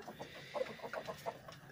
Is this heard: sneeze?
no